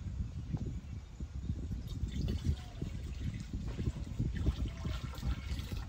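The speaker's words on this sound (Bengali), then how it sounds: "এবার আমি দিয়ে দিব পানি।" Water pours into a wok on a lit stove, a close, steady low gurgling splash that runs unbroken for several seconds.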